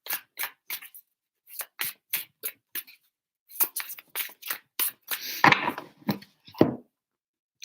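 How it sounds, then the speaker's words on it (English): Tarot cards shuffled in quick bursts of riffling and slapping, a run of short crisp clicks, a pause, then another flurry ending with a softer shuffle, close and alone without talk. "3 shuffles."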